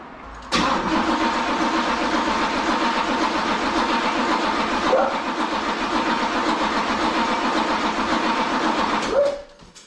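A 1986 Pontiac Trans Am, just fitted with a new fuel tank, cranks with a steady rhythmic starter whir for several seconds, catches briefly midway, then keeps cranking before a short rev near the end.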